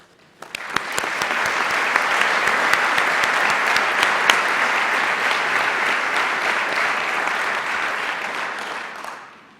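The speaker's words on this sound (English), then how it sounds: "Please join me with a round of applause in recognizing the service of the adjunct" Sustained audience applause at a university founders convocation honoring faculty, starting sharply, holding steady and full for about eight seconds, then stopping abruptly, with no talk over it.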